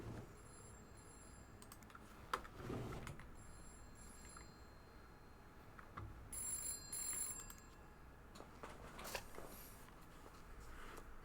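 A telephone rings indoors in repeated electronic bursts, audible over a steady background hum with some clicks and handling noise between rings.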